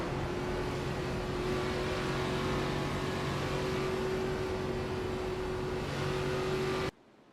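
A race car engine recorded on board during a Michigan racing replay holds a loud, steady drone with a fixed tone and no talk, then cuts off abruptly near the end.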